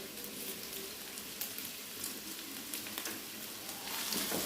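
Crushed onion, garlic, ginger, green chili and curry leaves sizzle in hot oil with a soft, even crackling hiss and faint stirring, fairly quiet and continuous.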